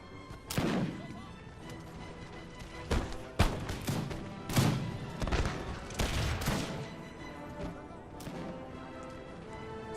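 Musket volleys crack across a Napoleon: Total War online battle, with repeated sharp bursts of massed fire at varying distance, some loud and close, others fainter, over a low rumbling background.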